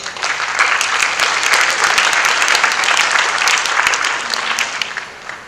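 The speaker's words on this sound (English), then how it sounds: "So give yourselves a round of applause." Sustained audience applause at a health care conference on plant-based nutrition, a full, even round of clapping from a large crowd that tapers slightly at the end.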